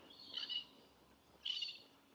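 Two thin, high calls from swooping birds along a side street in Innisfail, Australia, faint and somewhat distant, spaced about a second apart over quiet background hiss, with no talking.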